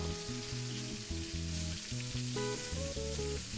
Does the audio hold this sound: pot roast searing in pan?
yes